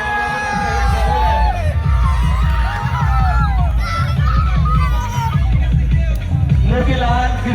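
Spectators whooping, yelling and cheering at a village premier league cricket match, a loud continuous crowd roar of mixed voices with children's shrieks and shouts rising over a rumbling ground noise.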